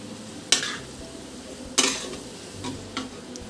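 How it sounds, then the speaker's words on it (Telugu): Pulao made with meal maker is stirred in a pan after mint and coriander go in: two sharp scraping strokes of a spoon against the metal, then softer scrapes, over a low sizzle, with no talk. "దీన్ని ఒకసారి మంచిగా మిక్స్ చేసేద్దాం ఫైన్గా"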